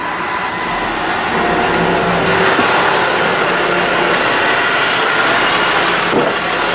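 A 2005 Ford F-750 forestry truck with a Lift-All LSS-60-IS aerial unit runs with its PTO engaged, a loud, steady, broadband engine rumble and whine with no pauses.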